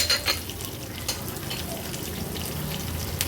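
Green chili and finely chopped ginger sizzle in hot tempering oil for curd rice: a close, loud, continuous frying hiss with crackling spits, strongest at the start, with no talking.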